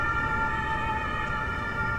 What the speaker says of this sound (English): The sirens faded away in the distance.